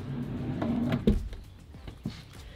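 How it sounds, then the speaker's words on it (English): A large storage drawer in a Unicell box van conversion slides and shuts, making soft rolling rattles followed by two short knocks, one near the middle and one near the end, with nothing else audible. "Next to that, we have a large drawer."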